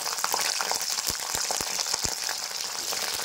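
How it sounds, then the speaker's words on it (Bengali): Cauliflower fries in hot oil in a wok with a dense, continuous sizzle broken by several sharp crackling pops, heard up close with no talking. "যখনই সবজি কড়াইয়ের মধ্যে দেবে গরম তেলের মধ্যে, তখন ফ্লেমটা একটু লো করে দেবে।"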